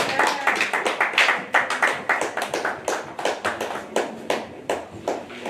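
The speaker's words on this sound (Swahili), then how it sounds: "Tupige makofi mazuri." A church congregation claps together, bursts of applause arriving in uneven waves that rise and fall, fairly close and without talk over them.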